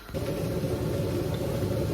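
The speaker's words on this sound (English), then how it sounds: "that's just the kettle boiling" An electric kettle boils in a home kitchen, giving a steady, close, low rumbling roar that starts abruptly and continues evenly.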